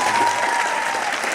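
A live audience at a motivational talk breaks into brief, loud, dense clapping that fills the room.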